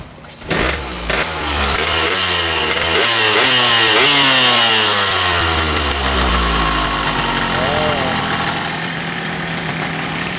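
A Yamaha RX King two-stroke motorcycle engine runs steadily close by, its note rising and falling a little with some revving, loud throughout.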